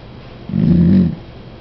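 A short, low dog vocalization, a brief grumbling moan lasting under a second, close by in a quiet room.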